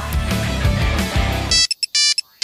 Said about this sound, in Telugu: ఒక్క నిమిషం కాల్ వస్తుంది.